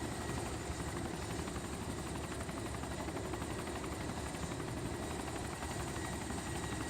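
A helicopter in the DayZ game flies with a steady, loud rotor chop and engine whine, a continuous rhythmic thumping throughout with no voices.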